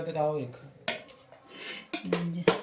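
Dishes and cutlery clink as rice is served at a home meal, with a few sharp ceramic knocks and scrapes standing out close by and a brief stretch of voice at the start.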